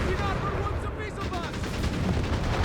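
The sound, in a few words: rocket bombardment and gunfire in video game Company of Heroes 3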